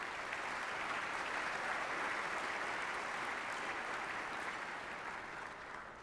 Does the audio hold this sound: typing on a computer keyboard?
no